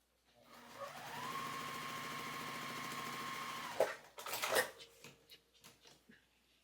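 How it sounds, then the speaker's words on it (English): A sewing machine stitches Dresden quilt block pieces together, running in a steady continuous whir for about three seconds before stopping, followed by a few brief handling clicks and rustles. "we're going to take 2 of these and sew them together"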